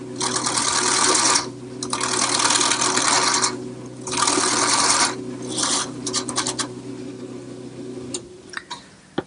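A parting tool cuts a cylinder on a wood lathe in a workshop, giving a loud, rasping scrape in several bursts over a steady motor hum. The cutting fades into lighter scratches near the end.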